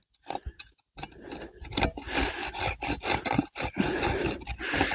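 Rough rhythmic rasping of a saw cutting through wood outdoors in snow at 2000 m, repeated strokes close by with brief pauses between them.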